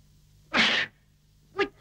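Someone in a 1939 Soviet film lets out a sharp, loud sneeze, followed a moment later by a shorter second burst.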